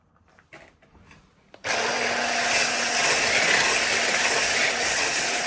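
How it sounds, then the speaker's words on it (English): After a few faint clicks and knocks, an electric whisk whirs on loudly and runs continuously, whipping eggs and sugar to peaks for a Black Forest gateau. "you're going to get a lucky whisk, and you're just going to"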